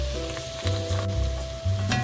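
Shrimp sizzling steadily in a hot pan while rigatoni with mushrooms is being prepared, a continuous crackling fry with soft bursts and stirring noises, close and fairly loud, with no talking.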